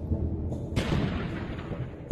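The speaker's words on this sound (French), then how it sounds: "Ils déclenchent de petites explosions à différents endroits autour du volcan." Small explosions set off around Vesuvius for seismic imaging: a muffled low thump, then a sharper, louder blast with a brief rumbling decay and another thud at the end.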